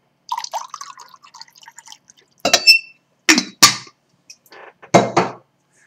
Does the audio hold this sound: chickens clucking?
no